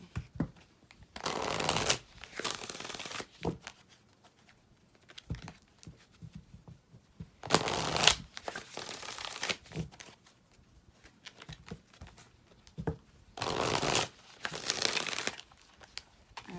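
Tarot cards are shuffled in several crisp riffling bursts, each a second or two long, separated by quieter pauses with faint handling noises.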